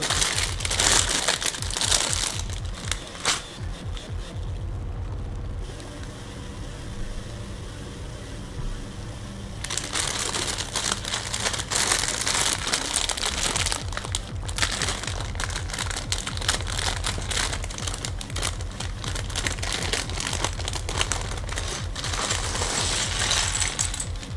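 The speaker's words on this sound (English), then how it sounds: "oh yeah, the plastic bag crinkling" Plastic bag crinkling close to the mic while sorting LEGO-style brick pieces, steady dense rustling through most of the stretch with a short quieter gap before it resumes loudly.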